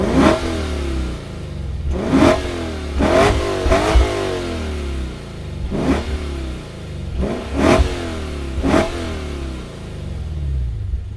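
A Lexus IS 500 engine barks through its stacked quad-tip exhaust in about six sharp revs, each rising and falling away, loud and close with a low idle burble between.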